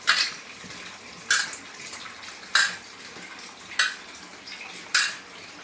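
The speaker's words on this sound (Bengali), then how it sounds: "আগে তো বেগুনটাকে ধুয়ে নিয়েছি, আবার একটু ভালো করে ধুয়ে নিচ্ছি" Eggplant, pumpkin and radish being washed in water, with five evenly spaced splashy swishes about a second apart over a low background hiss, close and unaccompanied by talk.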